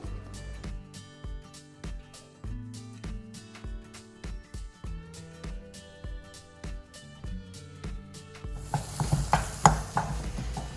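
Chicken sizzles in a pan with turmeric and salt for a home-style Telugu chicken roast (kodi iguru). Soft stirring knocks play over steady background music, then a loud, close frying hiss swells in the final seconds.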